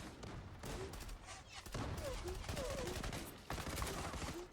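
Rapid bursts of gunfire from the online shooter Zula, FN FAL Pro rifle, crackle continuously through the clip, dense and moderately loud with overlapping shots.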